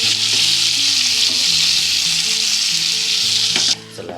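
Stuffed brinjals in masala sizzle steadily in a pan while being stirred gently, a loud continuous frying hiss with soft scraping, cutting out near the end.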